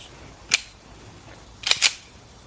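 Three sharp reports from an HK45 pistol, one alone and then a quick close pair about a second later, crisp and bright against a quiet background.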